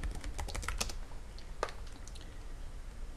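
Rapid keystrokes clatter on a computer keyboard in a quick burst, then thin out to a few scattered taps against a steady low room hum.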